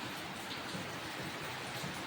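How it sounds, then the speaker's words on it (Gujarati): Steady rain falls outside a village house, a dense, even patter of drops filling the whole clip at moderate level, with no voices over it. "બહાર તો વરસાદ ચાલુ થઈ ગયો પાછો."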